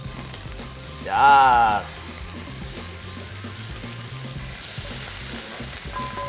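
Sesame oil heats in a pan for kimchi fried rice, giving a low, steady sizzle throughout. A short voice cuts in near the start.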